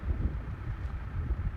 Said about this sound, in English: Not that windy, but it's a little windy,